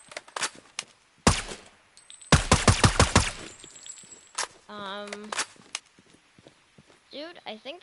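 Gunfire in the sniper shooter Sniper Ghost Warrior 3: sharp, loud automatic bursts and single shots in clusters, separated by quieter gaps with footsteps, game sounds and a voice speaking.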